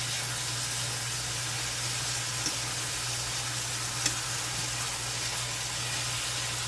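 Onion and chicken sizzle steadily in a hot pan, a continuous bright frying hiss with a low steady hum beneath and a couple of faint clicks, no talking.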